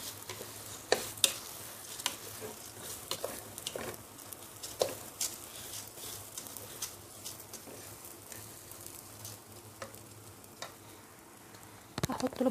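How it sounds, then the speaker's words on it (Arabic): Rice sautés and sizzles in a pan while a spoon stirs it with scattered scraping clinks and soft ticks at moderate volume, ending with a few louder knocks. "بس بصوا انا كده بقى ايه بفلفل الرز"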